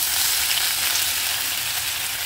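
Garlic and green chili paste sizzling in hot oil with cumin seeds, a steady loud hiss of frying that continues without a break, with no voices.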